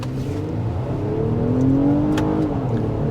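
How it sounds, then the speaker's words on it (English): A Nissan Pathfinder three-row family SUV pulls away from a stop, its engine note climbing steadily in pitch and loudness as it accelerates, with a whirring drivetrain and no talking. "Let's see how this thing accelerates from a stop."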